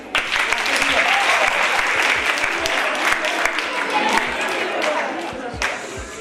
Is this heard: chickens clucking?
no